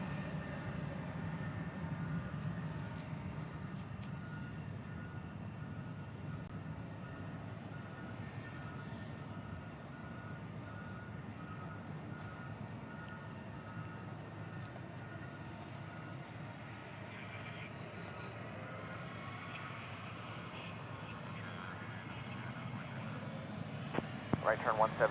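A JetBlue airliner approaches at Nashville International Airport, its engines a steady, distant low roar that holds throughout at low volume, while radio and voice chatter runs over it.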